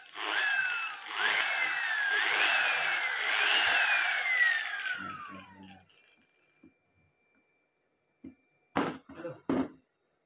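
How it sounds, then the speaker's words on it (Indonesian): An angle grinder powered by a small 500-watt 220-volt mini generator power station whines loudly for about five seconds, its pitch rising and falling as it revs, then winds down. A few short handling knocks follow. "Nih, kita punya tambahan perangkat untuk kita tes. Hari ini ada Gerinda."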